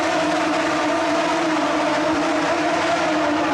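A Mercedes V12 fitted with a full titanium exhaust revs in a steady, high-pitched engine drone that holds unbroken and fairly loud for the whole stretch, with no talking over it.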